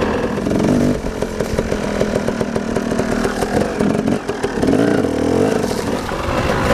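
A dirt bike on a private motocross and enduro track, its engine snarling loudly and continuously with rapid revs rising and falling as the rider works the throttle close to the camera.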